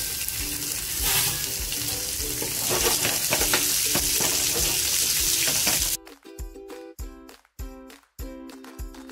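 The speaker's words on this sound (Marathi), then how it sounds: "माकुल बघा किती छान फ्राय झालेले आहेत" Squid frying in oil in a pan, a loud, dense crackling sizzle that cuts off abruptly partway through, followed by quieter, choppy kitchen noises with gaps.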